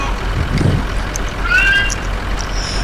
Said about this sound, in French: J'entends bien un chat, non?